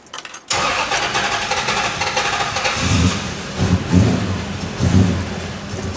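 An engine with a stuck-open valve cranks and catches after a brief silence, then runs roughly with uneven, lumpy surges in a loud close idle.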